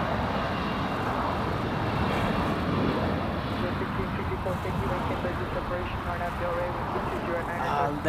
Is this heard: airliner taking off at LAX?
yes